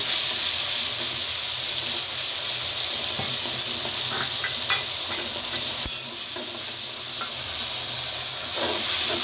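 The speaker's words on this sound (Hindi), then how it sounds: "मसाले को अच्छे से भून लेंगे" Spice paste for masoor dal frying in a pan, a continuous loud sizzle and hiss with occasional stirring scrapes and pops, close up and without talk.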